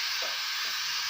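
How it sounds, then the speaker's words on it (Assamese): Steam hisses steadily from a pressure cooker with its whistle removed while steamed kettle pitha cooks inside, a constant close, breathy rush with no breaks. "এইটো খুলি দিয়া হৈছে মানে ভাপটো ওলাই আহিবৰ বাবে"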